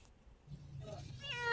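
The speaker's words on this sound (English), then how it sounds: "The only signs that a kitten was actually under there were the occasional rustlings and soft, cute meows." A scared rescued kitten hiding in a sheltered spot lets out a soft, close meow that swells near the end, over faint rustling and low background noise.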